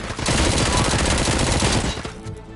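Sustained automatic gunfire from a shootout in RoboCop: Rogue City, a loud continuous burst of rapid shots lasting about two seconds before cutting off into a brief tail.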